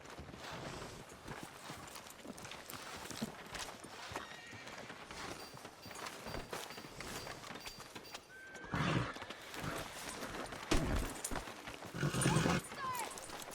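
A horse whinnies sharply twice over steady clip-clopping hooves and background ambience in the video game Red Dead Redemption 2.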